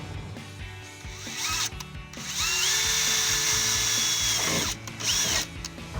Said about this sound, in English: Okay, so those are drilled.